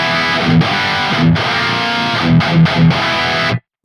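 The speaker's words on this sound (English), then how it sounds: "And then engaging the overdrive with the current settings, sounds like this." Electric guitar through the Archetype: Gojira X amp with its overdrive pedal engaged, tight saturated palm-muted riffing with sharp stops and short bursts, loud and dense until a sudden cutoff.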